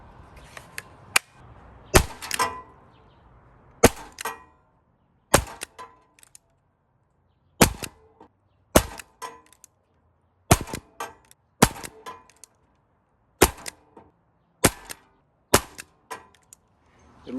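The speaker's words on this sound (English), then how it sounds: "we're going to try shooting pellets with the Shred-Er cartridge through the Vigilante barrel" Air pistols fire pellets using a Bug-A-Salt Shred-Er cartridge through a Crosman Vigilante barrel, giving sharp, loud, separate cracks at irregular intervals of about one to two seconds. Some shots are doubled, and quiet gaps fall between them.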